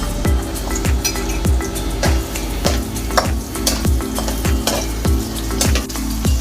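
Carrots frying in heated cooking oil in a pan, with a continuous sizzle and a regular rhythm of metal clinks from stirring, loud and close.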